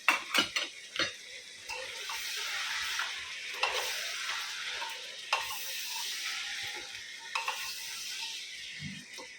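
Mutton frying with ginger and garlic sizzles in a pan while a utensil scrapes and stirs repeatedly, clattering against the metal now and then.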